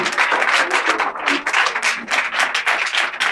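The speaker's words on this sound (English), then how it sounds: "Please clap for him." An audience at a training program event applauds a seated local party chairman, a dense, sustained burst of clapping from many hands, fairly close and continuous throughout.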